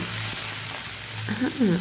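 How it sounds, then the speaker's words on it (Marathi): Vegetables sautéing in hot oil in a kadhai, a steady close sizzle running throughout with a brief clatter near the end. "एक एक करून भाज्या सॉटे करायला सुरुवात केली."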